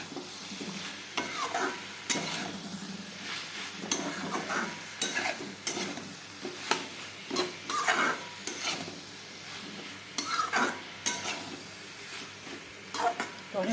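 Spice paste for a Bengali jackfruit and prawn curry is sautéed and stirred in a pan, a steady close sizzle broken by repeated loud scraping strokes of the spoon in an uneven rhythm, with no talk.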